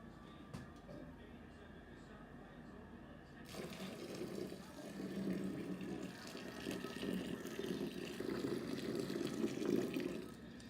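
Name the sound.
warm water pouring into brewing grains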